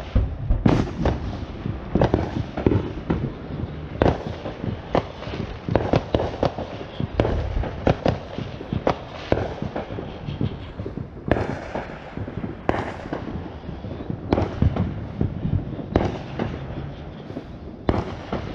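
Fireworks bursting during a Fourth of July celebration, a dense, continuous barrage of loud booms, crackles and pops fired in rapid irregular succession, some close and sharp, with no talk over them.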